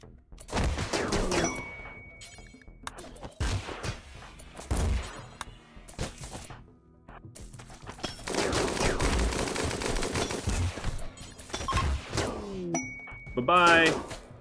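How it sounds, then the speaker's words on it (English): Gunfire in the colony game RimWorld, repeated bursts of shots with metallic pings and impacts, separated by brief pauses, then a longer sustained volley, with some speech in places. "I'll just keep shooting them."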